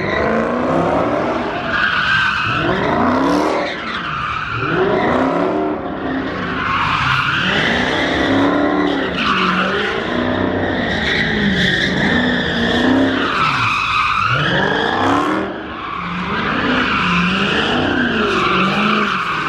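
A car swings around at a car meet, its tires skidding and squealing in repeated long, wavering shrieks over revving engine noise, loud and close with brief lulls between runs.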